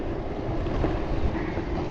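Electric skateboards accelerate hard in a race, making a steady low rumble of wheels on pavement mixed with whooshing wind noise that stays loud the whole time.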